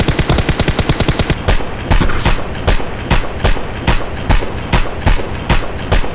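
Rapid automatic gunfire in the battle royale game PUBG, loud close bursts of sharp shots at a steady rhythm that continue through the clip without speech.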